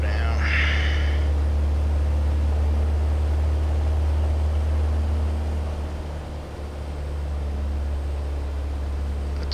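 A Piper Cherokee 180 engine drones steadily on a landing approach at Las Vegas in Flight Simulator X, a loud continuous low hum with a brief higher whine near the start.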